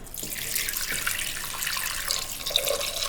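Water pours steadily into a cooking pot for spicy South Indian goat leg soup, a close, continuous splashing stream with a bright gurgle and no voices.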